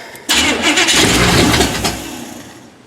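A 1979 Chevy K20 truck engine cranks and catches, roaring loudly into a ragged rev that holds steady for over a second before easing back toward a rough idle, with no talk over it.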